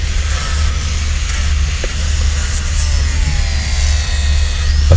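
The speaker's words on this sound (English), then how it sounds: "you can eat out whole surfaces with this flex disc" An angle grinder fitted with a flex disc shapes a piece of IKEA wooden furniture, giving a steady, loud, continuous hissing whir close by, with no speech.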